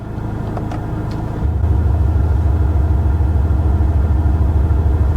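A Cupra Formentor VZx engine idles and then deepens in sport mode into a louder, throbbing rumble partway through, holding a steady boxer-like growl afterward, with no voices.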